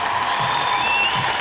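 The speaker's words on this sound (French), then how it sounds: "Et sous les applaudissements du public." A crowd applauds at a roller derby match as an injured player is carried off on a stretcher, dense steady clapping throughout with faint whoops mixed in.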